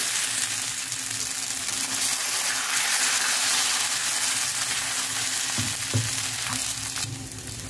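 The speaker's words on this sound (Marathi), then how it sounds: "याच्यामध्ये आपण टाकून घेऊ आपण तयार केलेलं हे मस्त नाश्त्यासाठी तयार केलेलं पीठ टाकून घ्यायचं आणि स्प्रेड करून घ्यायचं" Rice flour batter for a breakfast rice paratha hisses steadily in a hot pan for the whole stretch, with a few soft scraping knocks from spreading toward the end and no talk.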